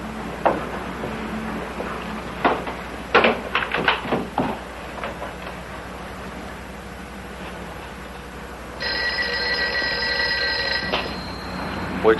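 A telephone in a motel office rings for a few seconds with a steady, buzzing bell after a quiet stretch of scattered knocks and small movements.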